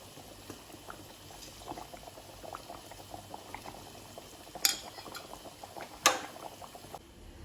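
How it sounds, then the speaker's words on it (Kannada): Sambar bubbling steadily in a pot, a continuous soft simmer with a couple of sharper clinks or splashes standing out partway through, no voices. "ನೋಡಿ ಎಷ್ಟು ಚೆನ್ನಾಗಿ ಕುದೀತಾ ಇದೆ"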